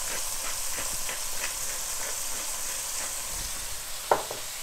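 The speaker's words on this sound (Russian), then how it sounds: "жарим буквально по одной минутке с каждой стороны" Langoustines sizzling in a pan with lemon, a soft, steady frying hiss throughout, quiet and close, with a brief clink near the end and no talking.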